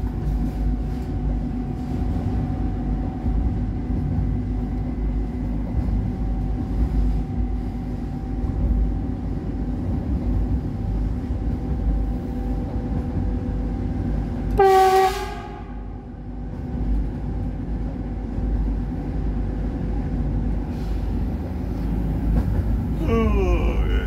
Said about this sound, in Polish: to jest jedyna linia kolejowa, którą jeżdżę zawsze z otwartym oknem, nie? Te dźwięki to jest coś pięknego.